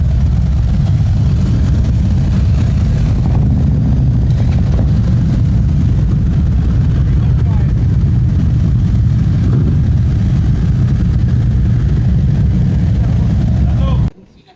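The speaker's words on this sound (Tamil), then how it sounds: "இந்த பைக்கில் சவுண்ட் பார்த்தீங்கன்னா" A Harley-Davidson motorcycle engine runs steadily in Jaffna, Sri Lanka, giving a loud, continuous low rumble that holds evenly for about fourteen seconds before cutting off sharply at the end.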